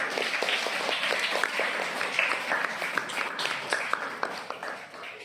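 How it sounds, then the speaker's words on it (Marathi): A group of children claps together in a classroom, a steady run of sharp overlapping hand claps that continues evenly and softens slightly toward the end. "चला टाळ्या वाजवा सगळ्यांनी"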